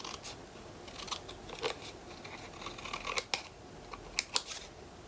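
Scissors trim Graphic 45 papercraft with a series of close, crisp snips, a few louder cuts standing out against a quiet background.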